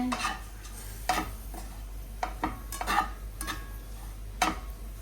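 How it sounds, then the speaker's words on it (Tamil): Bread crumbs toast in a pan to golden brown, heard as a series of brisk scraping stir strokes over a light sizzle, with occasional clinks of the spoon against the pan. "நல்லா சூடாகி ஒரு கோல்டன் ப்ரௌன் வரைக்கும் மொறு மொறுன்னு ஆகிற மாதிரி வறுத்து நம்மளோட ப்ரெட் க்ரம்ஸ் வந்து ரெடி ஆயிடும்"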